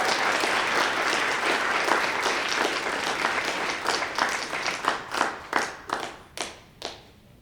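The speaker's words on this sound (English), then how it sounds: "please give a round of applause for Council Member Gossett" An audience at a Mental Health Court 20th anniversary event gives a round of applause for a council member, dense steady clapping that thins out toward the end into a few scattered, distinct claps.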